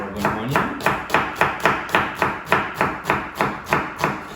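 A knife slices an onion on a cutting board for cauliflower fried rice, with about a dozen crisp, evenly spaced cuts in a steady rhythm, close up and with no talking.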